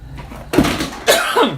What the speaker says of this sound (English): That cough came out of nowhere.